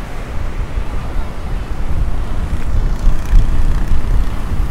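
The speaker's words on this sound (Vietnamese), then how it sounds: "Mấy bạn nhìn sóng biển này cao khiếp chưa?" Large sea waves surge and crash onto the shore during Typhoon Noru near the Son Tra peninsula, a loud continuous roar blended with heavy wind buffeting the microphone.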